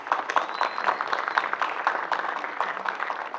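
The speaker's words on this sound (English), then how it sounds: "So a big applause to María" An audience applauds steadily at a PAX South 2020 games panel, a dense, continuous patter of clapping heard from within the room, moderately loud and unbroken throughout.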